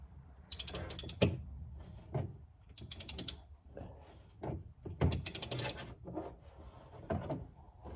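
A ratchet wrench clicks in quick bursts under a 2012 BMW X3 28i during an oil change: several close, crisp runs of ratcheting with short pauses between them and a few dull knocks.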